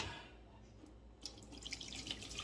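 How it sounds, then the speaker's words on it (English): Cooking juice poured out of a pressure cooker after shredding pork sirloin, a soft trickling, splashing flow with faint drips that builds slightly over a couple of seconds, close by and without talk. "pour a lot of this out,"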